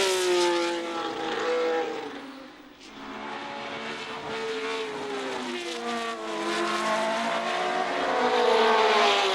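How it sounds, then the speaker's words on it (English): 1970 Formula One race cars, Ferrari and Matra V12s alongside Ford Cosworth V8s, scream past with high, rising and falling engine whines that overlap and sweep by, loud and continuous with no voices. "The Ford Cosworth V8s were far from outclassed, however, and although Ickx and Beltoise made up the front row of the grid with their V12-powered Ferrari and Matra cars"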